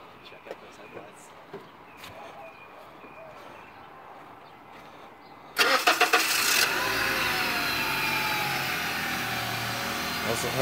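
An Acura RSX with an aftermarket exhaust starts up with a sudden loud crank and catch about halfway through, then settles into a steady close idle after quieter ambient sounds and faint clicks.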